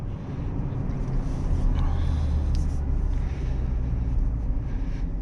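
A 2024 Chevy Colorado Z71 pickup accelerates, its engine a steady, loud, close rumble heard from inside the cab, holding one even level with no pauses and a faint voice in the background.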